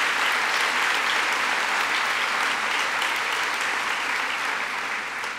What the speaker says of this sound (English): let's give a round of applause to all those behind the scenes that make this happen.